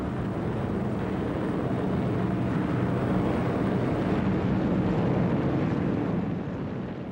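A WWII bomber takes off for a raid on Cologne, its engines a loud, continuous, rumbling roar that holds steady throughout and eases slightly at the end.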